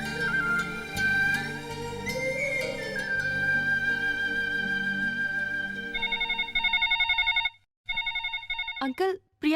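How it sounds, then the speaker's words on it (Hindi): A telephone rings in a trilling electronic pattern over background film music, its repeated bursts cut by a brief pause before a final jumble of tones. "फोन है तुम्हारे घर से।"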